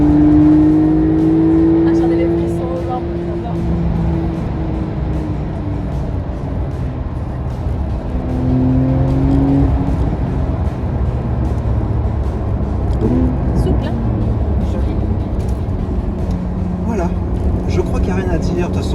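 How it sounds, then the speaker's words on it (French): A 2021 Porsche 911 S accelerating, its engine note rising and shifting through gears in a steady, loud drone heard from inside, with someone speaking French over it. "L'accélération, elle est magnifique."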